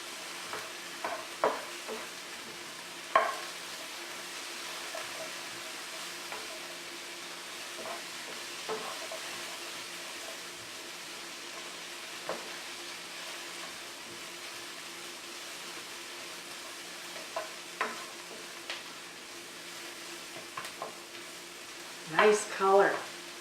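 Onions and celery frying in a pan for a turkey and quinoa dressing, a low steady sizzle with occasional stirring scrapes and clatters, a louder burst of stirring near the end, with a voice speaking at times over the cooking.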